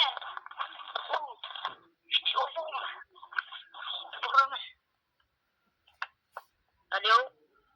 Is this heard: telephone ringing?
yes